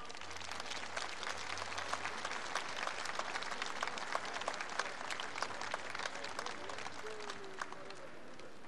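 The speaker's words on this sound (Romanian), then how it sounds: "Aplauze!" A large audience at the Cerbul de Aur 2008 folk music gala claps in sustained, dense applause that stays even and unbroken throughout.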